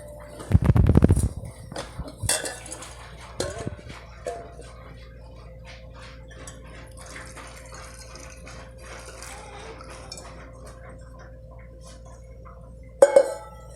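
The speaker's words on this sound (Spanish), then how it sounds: "Ahora que sacamos la limonada del fuego, la vamos a vaciar en un trasto de vidrio" Hot sugared lemonade, just taken off the heat, is poured from a pan into a glass container: a brief loud gushing pour at the start, then faint clinks and handling against a quiet background.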